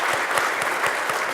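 Conference audience applauding event sponsors at a DevOps tech gathering, a steady, dense wash of clapping hands throughout, fairly loud and even with no voices over it.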